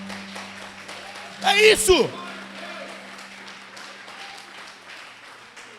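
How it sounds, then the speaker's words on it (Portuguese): A church congregation bursts into a short round of applause, about half a second of loud clapping and cheering that rises over a preacher's amplified talk and a steady low hum, then fades as he continues speaking. "se é para o Senhor aplauda de verdade"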